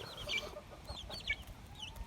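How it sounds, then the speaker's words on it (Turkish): Soft clucking from a few chickens nearby, short chirpy calls scattered over a quiet background murmur. "Tavuklarımızı görüyorsunuz zaten."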